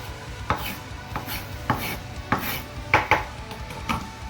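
A knife chops onions on a cutting board, about eight distinct, fairly evenly spaced thuds, close and moderately loud against a quiet room.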